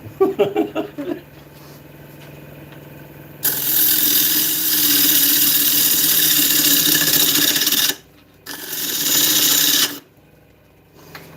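A wood lathe spins a 3-inch bowl blank while a tool cuts into it, giving a loud continuous scraping hiss that stops briefly and then resumes, after a few sharp knocks at the start.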